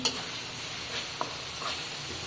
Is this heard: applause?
no